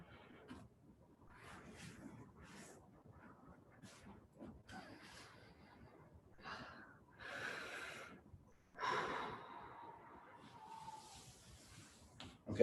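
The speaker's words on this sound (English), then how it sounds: "a couple more deep breaths" Slow, deep breaths during a group post-workout stretching session, soft inhales and exhales with snorting and gasping edges, quiet and close, with faint rustling and low background noise between them.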